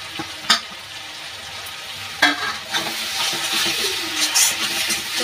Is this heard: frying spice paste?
yes